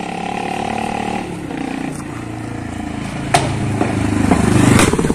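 A loud Royal Enfield 350 motorcycle engine with its silencer removed rumbles steadily up close, with sharp cracking backfire pops bursting out near the end.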